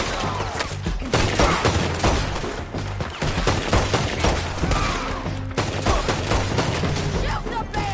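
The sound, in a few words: gunfire in video game Red Dead Redemption II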